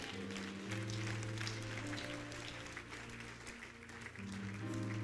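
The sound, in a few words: crowd clapping at a prayer meeting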